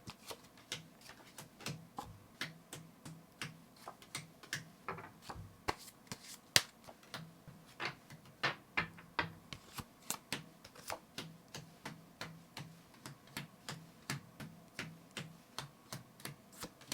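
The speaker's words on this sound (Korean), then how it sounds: "그럼 카드 셔플부터 바로 진행하도록 하겠습니다." Tarot cards are shuffled by hand in a quiet room, making a steady run of crisp, close clicks and riffles in a regular rhythm with no speech.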